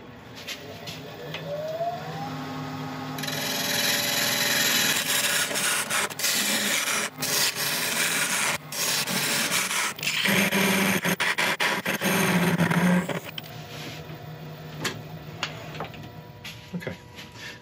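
A skew chisel shaves greenheart and purpleheart wood spinning on a lathe while a mallet is turned, giving a steady, close, continuous rasping hiss with brief changes in pitch and pressure as the cut moves along the piece.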